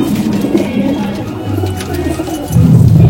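A Punjabi Malwai pigeon coos close by in low, soft rolling calls, repeating a few times and swelling louder toward the end.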